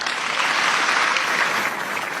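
Troops applauding as army chief Pierre de Villiers leaves the armed forces general staff headquarters; steady, dense clapping holds evenly throughout at moderate distance, with no pauses or voices standing out.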